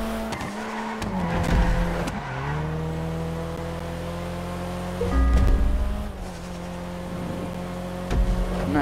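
A car races in Grand Theft Auto V, its engine droning and shifting pitch between gears, broken by several bursts of squealing tires through turns, loud and close throughout.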